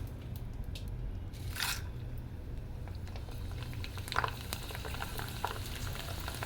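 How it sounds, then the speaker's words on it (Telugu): Corn kernels dropped into hot oil for a summer atukula mixture, a steady low bubbling fry with scattered crackles and pops, close and moderately quiet. "ఇప్పుడు దీంట్లో నేను మొక్కజొన్న వేస్తున్నానండి ఫ్రెండ్స్"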